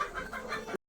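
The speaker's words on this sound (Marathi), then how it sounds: "मित्रांनो हे बघा 3 कोंबडी घेतला" A chicken bought for a home party gives a few quick, soft clucks up close before the sound cuts off abruptly.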